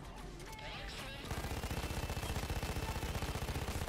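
Sustained automatic gunfire from a bipod-mounted weapon in the shooting game Payday 2, opening with scattered distant shots and then settling into a rapid, loud, rhythmic burst held down without pause.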